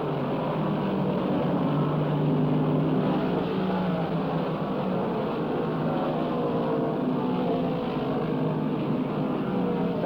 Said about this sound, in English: Savage pushes the Barracuda faster.